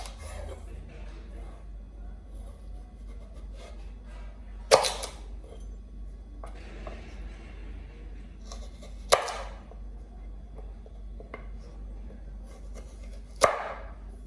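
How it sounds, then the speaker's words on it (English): Three sharp, isolated knife strikes land on a cutting board several seconds apart, as carrots cut in half are diced into cubes, against a steady low background hum with no talking. "I try to cut them into 2 before I do any chopping. So we want them in, cubes"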